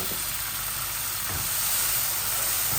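Water is added to frying spices in a pan, raising a loud, continuous hissing sizzle that fills the whole clip with no talk.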